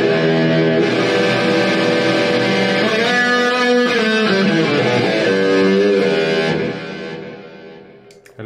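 Electric guitar played through a Zoom G2.1Nu multi-effects preset bank, a loud processed sustained chord tone with rich harmonics and shifting notes, dying away near the end with no talking.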